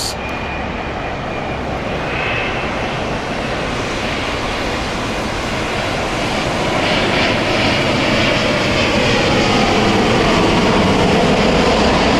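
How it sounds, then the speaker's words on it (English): A WestJet airliner's jet engines roar steadily at Heathrow Airport, a loud, broad and continuous rumble that swells slightly toward the end, with no talk over it. "Here she comes. WestJet, folks."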